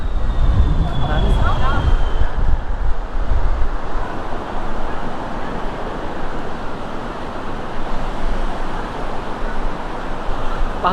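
Gusty wind buffets the microphone near the Peak Tram in Hong Kong, a steady roaring rush with a background traffic hum; a voice speaks briefly near the start.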